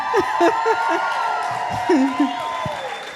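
Graduation ceremony audience at Portland State University's multicultural event cheers with whoops and scattered applause, a broad crowd wash with individual shouts rising above it.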